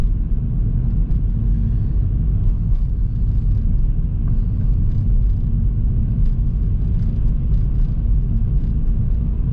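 A car drives onto a motorway in Switzerland, a steady loud rumble of engine and road noise running throughout with no talk.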